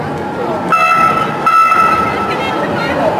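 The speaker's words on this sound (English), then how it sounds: "Well, I just couldn't hear you, that train." A train rolls past close by, a loud rumbling wash with a sustained horn-like tone, while people talk over it.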